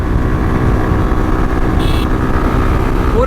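A motorcycle engine drones steadily at high speed on an open road, loud and constant, with a brief whine near the end as it pulls harder.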